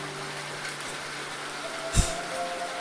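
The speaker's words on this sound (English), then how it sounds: "And the rain doesn't seem to show any signs of stopping either." Steady rain falls in the DDLC Salvation Remake game, a soft continuous hiss of moderate level with a single brief thump partway through and no speech.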